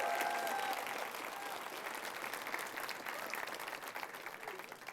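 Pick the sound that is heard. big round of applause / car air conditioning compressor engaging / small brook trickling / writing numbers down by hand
big round of applause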